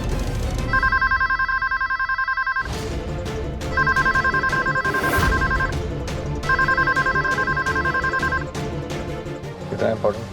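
A home telephone rings unanswered in three long, loud, electronic ringing bursts separated by short gaps, over a busy background with voices.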